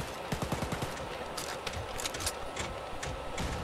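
Rapid bursts of gunfire ring out in the co-op shooter Wolfenstein: Youngblood, with dense, rattling shots at close range and no voices.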